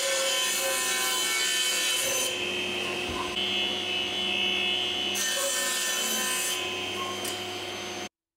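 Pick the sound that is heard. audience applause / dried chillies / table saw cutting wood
table saw cutting wood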